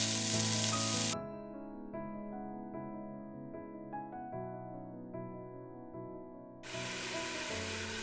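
Pork shoulder roast browning in an Instant Pot, a bright hissing sizzle that drops away to a quieter tonal hum with faint crackles, then the loud sizzle returns near the end.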